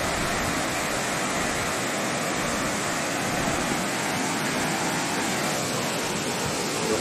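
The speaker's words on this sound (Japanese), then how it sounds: "田原の滝でございます" The Tawara waterfall in Tsuru, Yamanashi, Japan, roars with a dense, continuous rush of falling water, loud and close, with no pauses.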